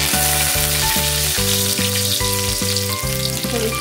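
Curry leaves dropped into hot oil, giving a loud, dense sizzle that holds steady for a few seconds, close up and with no talking.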